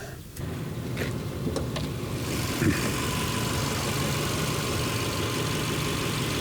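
A 2008 Subaru Impreza engine idling under the open hood, a steady, even rumble that holds at a constant level for several seconds, with a brief clunk partway through and no talk.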